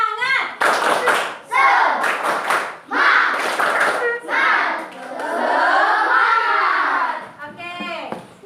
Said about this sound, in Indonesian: Ya, tepuk semangat.